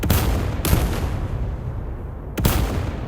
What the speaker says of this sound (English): there go the mortars